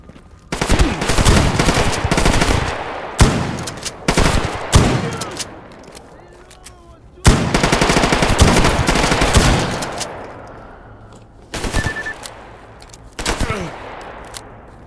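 Bursts of automatic gunfire and shotgun blasts in the video game Stalker GAMMA, loud repeated volleys separated by short pauses, with a voice speaking briefly between them.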